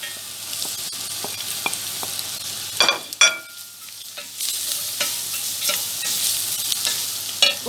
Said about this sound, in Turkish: Şimdi patatesli havucumu da ekliyorum.